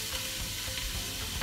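Carrots and onion frying in oil in a pan, a steady close sizzle running throughout with a louder burst of crackle at the very end.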